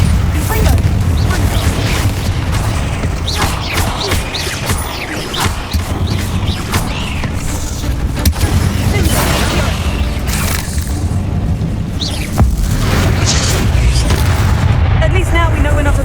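Spell explosions in Hogwarts Legacy boom and crack in a loud, busy fantasy battle, with repeated blasts and rumbling impacts over game sound.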